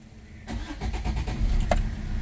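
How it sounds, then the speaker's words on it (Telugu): A Maruti Swift diesel engine cranks briefly and catches on a single start, settling into a steady low idle rumble close by. "నేను ఇంజన్ స్టార్ట్ చేస్తున్నాను"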